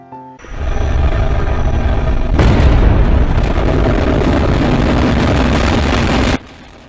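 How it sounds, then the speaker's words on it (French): A powerful engine roars loud and steady through the night, rising into a dense, rumbling surge that holds for several seconds before cutting off abruptly. "C'était le son d'un moteur puissant."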